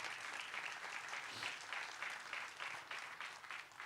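Applause from a church congregation, a steady, dense clapping that fills the space without pause and sounds moderately distant throughout.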